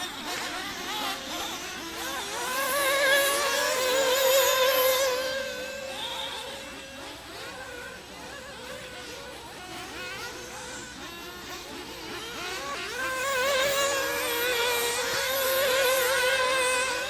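Several dirt oval race car engines rev and drone at a distance during qualifying at Oakland Mills, Pennsylvania, rising and falling in waves with a steady buzzing hum throughout.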